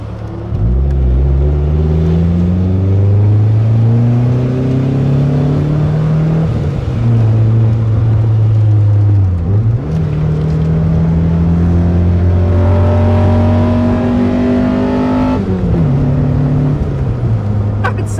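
A 1999 Mitsubishi Eclipse GS Spyder's 2.4 liter engine accelerating hard through several gears, loud rising drone broken by shift dips, heard from inside the car on a highway.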